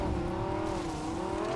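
Steady engine hum of a car driven in a shooter video game, a continuous mid-pitched drone holding at even loudness with slight pitch drift, no talk.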